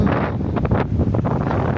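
Steady wind on a beach buffeting the microphone with a low rumbling roar, loud and continuous throughout, with no voices.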